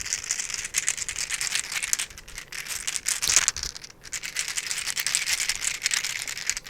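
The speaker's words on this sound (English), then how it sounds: "My next fidget is one of my favorites. It is my mini atomic ball." A mini atomic ball fidget toy rattles close up with a dense, continuous clatter of small loose parts, shaken in bursts that surge and dip over several seconds, with no talk.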